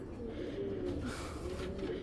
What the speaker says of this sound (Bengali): এগুলা কোবরা, হ্যাঁ কোবরা কবুতর বলে